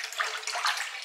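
Tap water pours steadily into a bath or sink to whip up soapy bubbles, a close, continuous hiss and splash that stays even throughout the short moment with no talking.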